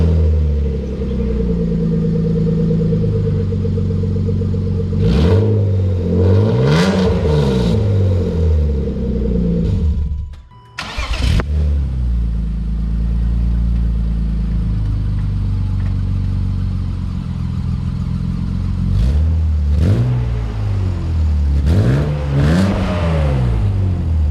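A BMW E36 318ti with an M52 engine and a freshly fitted exhaust muffler idles and blips its throttle several times, giving short revving rises over a steady rumble, with one brief pause midway.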